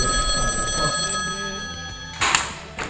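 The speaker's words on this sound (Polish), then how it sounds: "Dawaj, Dawid, odbierz telefon" An old telephone bell rings inside an abandoned suit factory, a sustained metallic ringing that cuts off, followed by a brief louder clatter near the end.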